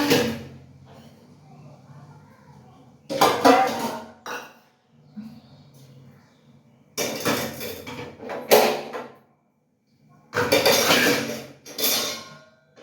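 Kitchen clean-up with dishes and cups handled, several separate bursts of clattering and knocking, close by, broken up by quieter stretches with someone talking.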